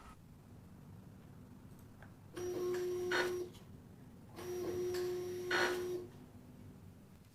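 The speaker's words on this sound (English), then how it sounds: "After clicking OK at this time, the printer will print two labels." A label printer feeds out two labels, two separate bursts of mechanical whirring with a steady motor hum and brief clicks, each lasting about a second, in an otherwise quiet room.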